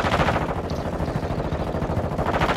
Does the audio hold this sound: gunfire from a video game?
yes